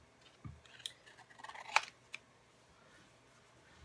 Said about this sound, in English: I'm going to have to cut these apart